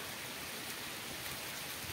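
Wind-driven rain falling on a riverside fishing camp with a small shelter, a dense even hiss of drops that fills the whole stretch without pause, steady and close.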